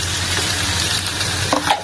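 Small fish cook in a pan with a constant close, loud hiss of frying, and a couple of brief clinks near the end.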